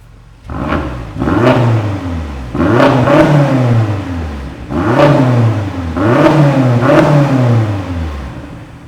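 A BMW X6M engine with stock exhaust revs hard several times in succession, a deep burbling exhaust roaring up and dropping back between blips, close and loud with no talking.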